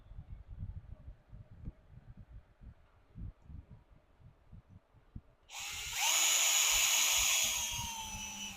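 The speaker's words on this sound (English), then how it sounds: "If you're using a cordless drill like I'm having, I have it set on 1" Muffled handling and shuffling noises, then a cordless drill set on its first setting whirs up loudly close by, tightening screws on a Redcat Gen 8 RC truck, and keeps running steadily for a few seconds.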